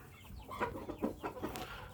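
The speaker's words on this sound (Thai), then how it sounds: "ไก่คอกนี้นะครับได้ไก่ประมาณ 10 ตัวนะครับ" Chickens in a pen of about ten birds, two males and the rest hens, cluck in several short nearby calls over faint background noise, with no talking.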